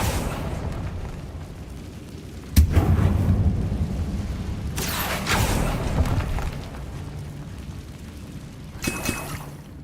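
Confringo blasting spell going off in the game Hogwarts Legacy: a sharp, loud boom with a rumbling tail, followed by a second rolling burst and a fainter pop near the end.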